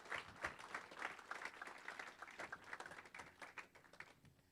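Audience applause for sponsors and partners at an entrepreneurship competition final, a faint, uneven patter of a modest crowd clapping for several seconds and tapering toward the end.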